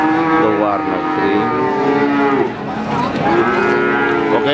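Cattle at the Pon cattle market in Central Java, Indonesia, low loudly in long drawn-out moos, several overlapping calls close by amid a busy market murmur.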